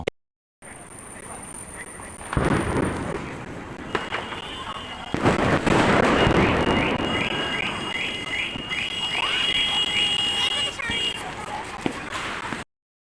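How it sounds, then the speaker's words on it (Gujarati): Diwali firecrackers crackle and pop in rapid bursts, with a whistling sparkle and scattered bangs, while people talk nearby. "મારા ફટાકા ફોડી લીધા છે"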